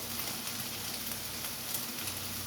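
Chopped white onion hits a hot pan and sizzles steadily, a dense even hiss with a low background hum running throughout and no talking.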